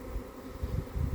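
A swarm of Italian honey bees flies in to a capture box, a dense, steady buzzing hum close by with no voices.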